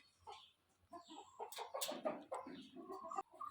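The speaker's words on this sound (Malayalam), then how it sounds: "കോഴിക്ക് നമ്മൾ തീറ്റ ഈ ഒരു കൂട്ടിൽ വെച്ച് കൊടുക്കുന്നത് ഇതുപോലെയാണ്" Chickens in a village coop at feeding time cluck and squawk in repeated bursts, fairly close and steady, with no voices.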